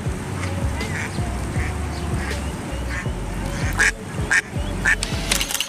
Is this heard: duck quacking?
yes